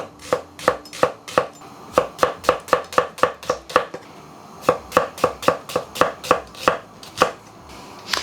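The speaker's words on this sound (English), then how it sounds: "It's just a case of slicing." Small red onions are sliced with a knife on a chopping board, a brisk series of crisp, evenly spaced chops in quick bursts with short pauses between runs, close and clear with no talking.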